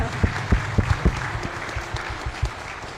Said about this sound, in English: you can applaud because we need to do it.